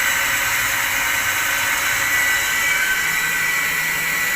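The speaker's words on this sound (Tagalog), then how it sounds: "Yung water pump na Mitsubishi." A Mitsubishi water pump running with a steady, loud, continuous whirring roar that holds unchanged throughout, alone with no voices.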